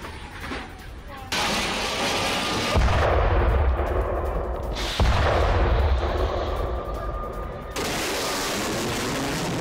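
Gunfire and heavy blasts from a Ukrainian attack on a Russian T-72B3 tank in a war zone, a dense, continuous roar of shots and booms with sharp bursts and sudden level jumps, loud throughout with no clear speech.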